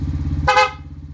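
A single short motorcycle horn beep sounds over a steady idling engine of a Suzuki Smash 115, close by and loud, lasting about a quarter second.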